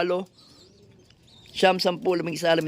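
Soft racing pigeon coos and a few chirps come in short bursts, with a quiet gap between them.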